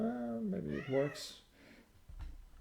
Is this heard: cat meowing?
yes